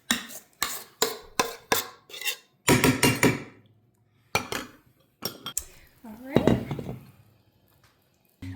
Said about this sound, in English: now we're just gonna go ahead and spread this into that prepared pan